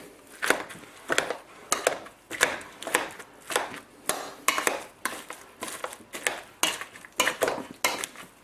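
Potatoes with a few knobs of butter being mashed by hand in a pot, a steady rhythmic series of about sixteen squelching, knocking strokes, close and moderately loud, with no talking.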